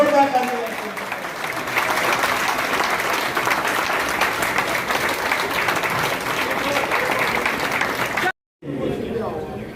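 Loud, dense applause from a crowd of party workers at a certificate and flower-shower ceremony held by a government minister, steady clapping for about eight seconds before it cuts off abruptly, followed by a brief quieter stretch.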